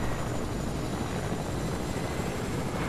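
A helicopter in the video game Fortnite drones with a steady rotor and engine hum, continuous and fairly loud, with no break and no voice over it.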